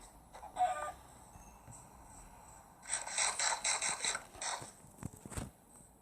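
A Minecraft chicken clucks in short, choppy bursts, a few brief calls followed by a louder rapid run of clucks, fairly close, with no speech.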